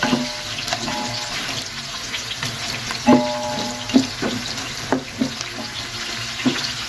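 Onions for Saudi kabsa sauté lightly in a pan with a gentle, low sizzle, broken by occasional knocks and scrapes of a spoon, no voices.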